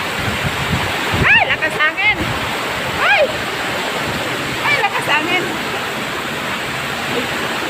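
Heavy rain roars steadily in a dense wash of noise, while voices speak briefly over it.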